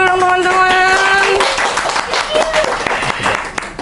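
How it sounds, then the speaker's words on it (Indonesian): An audience at an Indonesian talk show about volunteering and social organizations claps in a brief burst, the clapping mixing with a voice at the start and trailing off into scattered claps and talk. "tepuk tangan dulu dong teman-teman"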